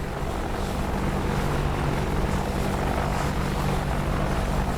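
An AH-64D Apache helicopter in the DCS combat flight simulator gives a steady, dense rotor and turbine drone, loud and unbroken throughout with no voices.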